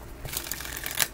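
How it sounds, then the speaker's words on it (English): A deck of tarot cards is shuffled close up, with quick papery riffles and soft slaps forming a brief flurry of crisp clicks. "They said shuffle twice."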